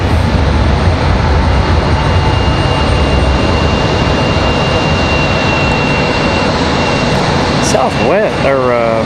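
A United Boeing 737 MAX 9 jet on the runway at Raleigh-Durham International Airport, heard as a loud, steady broadband roar that fills the whole stretch, with a brief warbling whine near the end.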